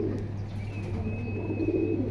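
Old-generation khoragola breed pigeons cooing softly and low, a faint continuous murmur over a steady background hum, with no talking.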